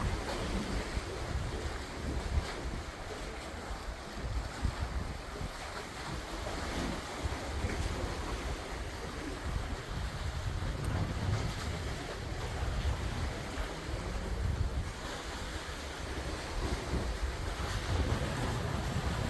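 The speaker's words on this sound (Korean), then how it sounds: "좀 강하게 파도가 쳤는데 오늘은 좀 잔잔한 편입니다" Calm sea waves wash steadily at Daejin harbor, a continuous soft surf with a light breeze and wind rumble on the microphone, no talking.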